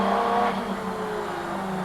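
A Group A racing car runs on a circuit, its engine holding a steady, buzzing drone close by with a slight rise in pitch early on and no voices over it.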